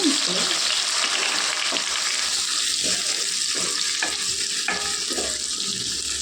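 Tomato pieces frying in hot oil for chicken curry, a steady loud sizzle running throughout with a few soft clinks and stirring scrapes, no talking.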